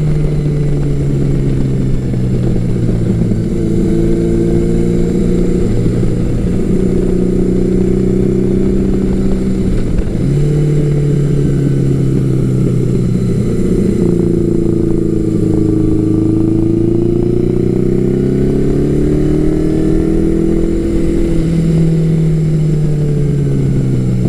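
A Suzuki GS1100L or Yamaha XJ1100 Maxim big-bore motorcycle riding twisty roads, its engine droning loud and steady throughout, pitch rising and falling smoothly with repeated shifts and throttle changes through curves.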